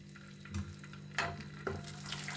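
Two spoonfuls of ghee melting in a hot pan give a soft, steady sizzle with light scraping and stirring clicks, close and fairly quiet with no talking.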